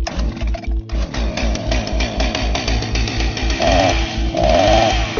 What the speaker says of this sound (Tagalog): Binuhay ni Jake ang chainsaw.